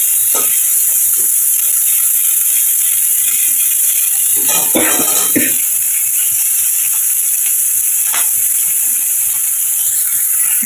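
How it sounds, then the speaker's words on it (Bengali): Chopped onions fry in a pan with black cumin seed tempering in a home kitchen. A steady, close sizzle runs throughout, broken by a few clinks and scrapes of stirring. "দেখো পেঁয়াজটা ভাজা হয়ে যাচ্ছে লাল হয়ে যাচ্ছে"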